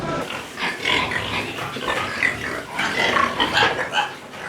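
Pigs grunting on a farm, a dense run of overlapping grunts and snorts at moderate loudness continuing throughout, close by, with no talk.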